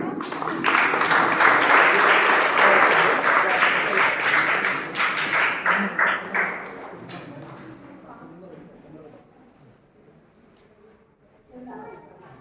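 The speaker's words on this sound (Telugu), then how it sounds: "క్లాప్స్ కొట్టాం అందరూ." A congregation claps in rhythm at a Mother Mary special holy mass in a shrine, with loud, sustained applause that fades away, a few scattered claps afterwards, and voices mixed in.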